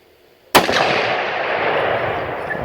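One loud, sharp rifle shot from a Ruger .300 Win Mag with a Shepherd scope cracks out during outdoor target practice. A long, fading echo rolls away afterward, and no one speaks.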